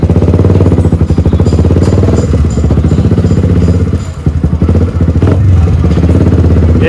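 A Yamaha R15 V3 motorcycle engine runs close and loud with an oil problem, giving a rough, rapid, metallic ticking clatter over a steady drone that continues without a break.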